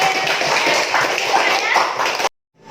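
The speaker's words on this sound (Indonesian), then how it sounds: "Tepuk tangan untuk kelompok terakhir." Classroom of students clapping for the final presentation group, a dense burst of close applause with some voices that cuts off abruptly, followed by a brief faint sound.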